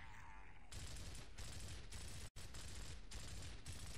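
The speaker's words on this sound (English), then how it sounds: "I'm shooting it." Gunfire in Gears of War, heard as sustained automatic bursts that come in quick, dense volleys with short gaps between them, loud and close, with one abrupt cut partway through.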